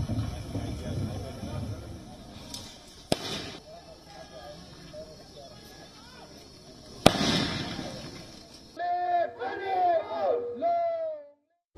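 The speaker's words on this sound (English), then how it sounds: "Tear gas shells and smoke bombs were fired to disperse the crowd." Tear gas shells and smoke bombs fired at a protest crowd, two sharp loud bangs standing out over crowd noise and shouting, followed by hissing and high whistling sounds from the shells near the end.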